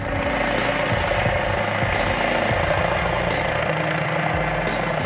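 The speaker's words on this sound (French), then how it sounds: "Ce dispositif est appuyé par 2 hélicoptères que les Clermontois entendront une partie de la nuit." Two helicopters fly over Clermont-Ferrand at night, their rotors producing a loud, continuous chopping drone with regular pulsing beats that stay prominent for the whole stretch.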